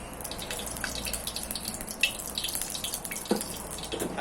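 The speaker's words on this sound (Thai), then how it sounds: "รินน้ำมันออกนิดนึง" Excess oil poured out of a frying pan holding a fried egg, a soft continuous trickling of liquid with a few faint clinks, steady and close for a few seconds.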